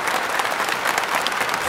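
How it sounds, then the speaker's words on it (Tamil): An audience applauds loudly and steadily at the Sakthi Masala Suya Sakthi awards ceremony. The thick, continuous wash of many hands clapping is close and full, with no gaps. "இந்த கைத்தட்டலாம் பத்தாது, நல்லா கைத்தட்டணும்."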